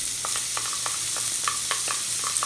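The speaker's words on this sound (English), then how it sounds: "The first thing we want to do is add the shallots" Shallots sizzling in a hot pan with steak drippings while a sauce is started, a steady fry hiss broken by clicking scrapes and stirs, close and alone with no talk.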